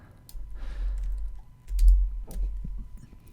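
Soft, close computer keyboard presses and clicks in a quiet room while working in Photoshop. A few scattered taps land over a low steady hum.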